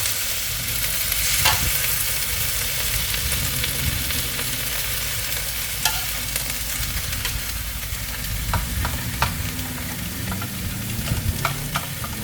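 Hong Kong kale with squid and shrimp in oyster sauce is stir-fried in a hot pan, with a loud continuous sizzle close by and the sharp clinks and scrapes of the spatula growing more frequent toward the end.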